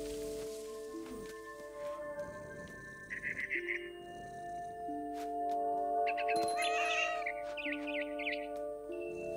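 Cat sounds in What Remains of Edith Finch: a few short, high chirping bursts and trilled calls rising over steady tonal game music and soft background noise, with no one talking.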